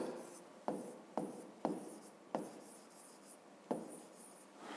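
Handwriting during a physics lesson: scratchy, continuous pen strokes with several sharp taps where the pen meets the surface, close and fairly quiet.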